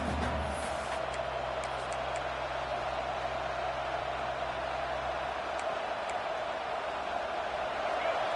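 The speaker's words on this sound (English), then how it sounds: "The roar of the crowd trying to fuel this defense to keep them pinned in their own end." A football stadium crowd at a Michigan versus Clemson game keeps up a steady, distant, wash-like roar that holds at an even level throughout.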